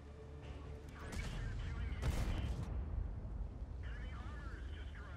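Tank guns fire in World of Tanks, booming blasts with rumbling tails around one and two seconds, followed by quieter game effects, with talk over the top.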